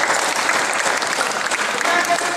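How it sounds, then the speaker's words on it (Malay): Brief burst of clapping from onlookers at a badminton talent camp session, dense and fairly close, with faint voices mixed in. "beri tepukan kat ini dua"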